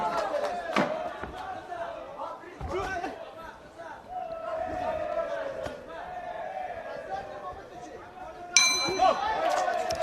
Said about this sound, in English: There goes the bell at the end of round 1.